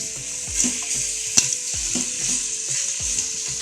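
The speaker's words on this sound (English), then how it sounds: "then we'll put the pork in" Pork pieces sear in an Instant Pot for pork adobo, a bright steady sizzle broken by several sharp utensil knocks and scrapes against the pot, one louder clack near the middle; close and without speech.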